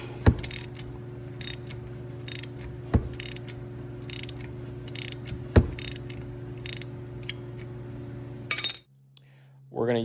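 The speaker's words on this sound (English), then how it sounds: "with a crescent wrench holding one side of it, you should be able to very easily work off that slider bolt" A crescent wrench works loose the caliper slider bolt on a MINI's front brake, giving three sharp metallic clinks and ratcheting clicks over a steady mechanical hum, cut off near the end.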